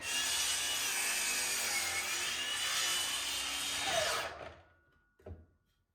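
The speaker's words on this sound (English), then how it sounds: "We're just gonna cut that off." A power saw cuts through a cracked, warped camphor burl guitar-top billet with a loud, sustained whining grind, then winds down, followed by a brief knock.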